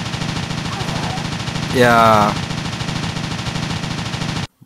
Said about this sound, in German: Hör auf zu schießen.